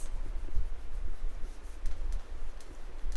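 Marker or chalk drawing a pedigree symbol on a board, soft scratchy strokes and rubs close by, faint and intermittent without talk.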